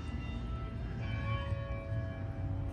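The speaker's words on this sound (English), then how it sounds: "Oh, you get to hear the church bells" Church bells ringing faintly in the distance, steady tones hanging over a low outdoor rumble.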